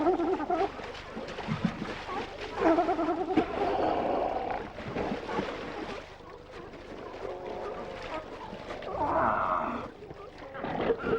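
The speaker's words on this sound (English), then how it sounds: "sea lion colonies haul out to sun themselves" Sea lions roaring and barking at a crowded colony haul-out on an Alaskan beach, repeated loud overlapping calls over a steady wash of surf and water.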